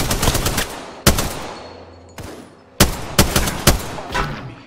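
Apex Legends shootout with rapid bursts of automatic gunfire and single sharp shots, loud and close, separated by short pauses with echoing tails.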